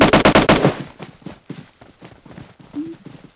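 Rapid automatic gunfire from the PUBG Lite video game opens with a loud burst, then thins into scattered single shots and footstep-like thuds, with a brief electronic tone near the end.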